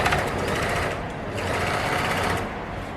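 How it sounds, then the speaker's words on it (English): An overlocker runs continuously, sewing elastic into a pants waistband, a loud, fast, buzzing mechanical whir close up with slight dips in speed as the fabric is pulled through. "I'm going to pull and then I'm going to overlock"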